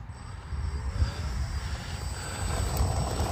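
An E-flite F-18 Blue Angels RC jet takes off in a crosswind outdoors in Ohio, its electric ducted-fan whine steady and fairly close over a low rumble of wind, with no talk.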